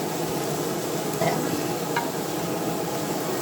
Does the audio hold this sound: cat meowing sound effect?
no